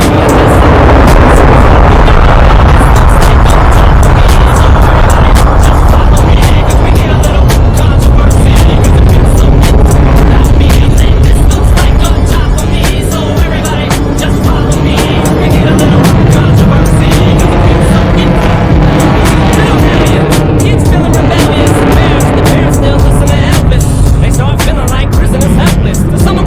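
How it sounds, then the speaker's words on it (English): A Super Hornet jet performs a pitch rate demo at the Edwards Skyfest airshow, its engines roaring loudly and continuously for the whole stretch, shifting in tone as the aircraft maneuvers overhead with crackling, rumbling thrust. "Ladies and gentlemen, for the right, the Super Hornet pitch rate demo"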